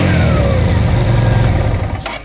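A Keeway V302C motorcycle's V-twin engine runs loud and close, a deep throbbing drone with a rising and falling pitch as it revs, easing off toward the end.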